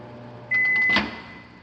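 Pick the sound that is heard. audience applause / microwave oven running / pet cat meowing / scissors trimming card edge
microwave oven running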